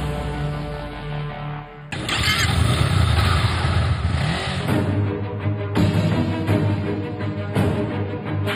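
Police motorcycles of Lahore's Dolphin Squad riding through city streets, engines revving loudly and steadily up close, with a surge in volume partway through and continuous road noise.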